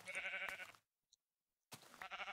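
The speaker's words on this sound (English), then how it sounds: "Yo, sheep." A Minecraft sheep bleats twice in the game, with a loud wavering bleat, a short silence broken by a tiny click, then another close bleat.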